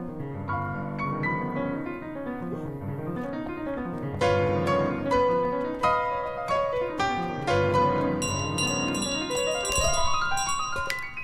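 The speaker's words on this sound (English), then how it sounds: "That's my bell." Bells ring repeatedly in Untitled Goose Game, bright metallic tones layered over one another in quick, uneven succession, loud and close with no voices over them.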